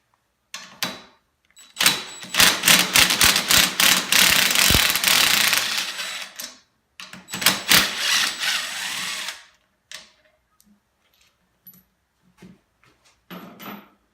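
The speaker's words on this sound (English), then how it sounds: "we can start loosening our 10mm bolts on the top" A ratchet or power tool loosens the 10mm handlebar riser bolts on a Ski-Doo Rev XS snowmobile, in close bursts of rapid clicking whirs separated by pauses, ending with a few quieter taps.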